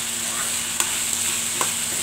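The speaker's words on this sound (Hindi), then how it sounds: "देखिए इसको अच्छी तरह से हम भून रहे हैं।" Black chickpeas frying with red chili powder in a pan give a steady close sizzle, with a couple of soft stirring scrapes and no voices.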